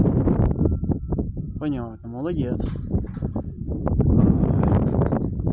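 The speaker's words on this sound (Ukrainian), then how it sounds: "Вітер сильноватий." Strong gusty wind roars and buffets the microphone throughout, with people talking over it and a brief whistling tone partway through.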